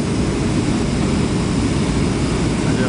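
Steady, loud cabin roar inside an airliner during turbulent flight, a dense low rumble of engine and airflow holding constant throughout with no voices.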